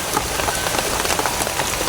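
Steady rain falls outside at night near a camp set up by a graveyard, a dense, even patter on surfaces that runs close and continuous with no voices.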